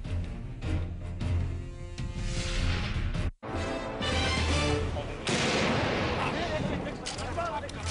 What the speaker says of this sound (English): One of several new loud explosions heard this morning at the Taj Hotel in Mumbai, India